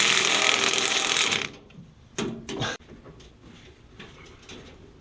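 A ratchet wrench tightens bolts on a truck bed cage for a Ford Ranger prerunner, giving short clicking bursts after a loud broadband noise fades, up close with no talking.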